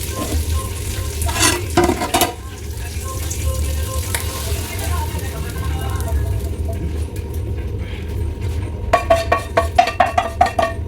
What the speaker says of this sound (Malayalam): എന്നിട്ട് നമുക്ക് സാമ്പാറിലോട്ട് ഒഴിച്ചു കൊടുക്കാം